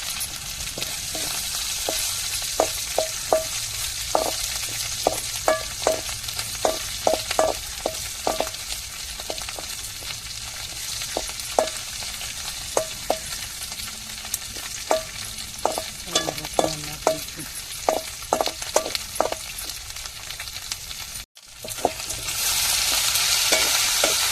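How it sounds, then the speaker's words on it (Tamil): Dried fish and sun-dried vegetables sizzle steadily in hot oil while a spoon scrapes and stirs the pan in frequent sharp clinks, a close, continuous frying hiss with no talking. "இப்போ வந்து நம்ம கருவாட்டை வந்து எண்ணெயில் போட்டாச்சு இப்போ ஓரமாக கருவாட்டை ஒதுக்கி வச்சுட்டு நம்ம வத்தலை சேர்த்துக்கிறோம்"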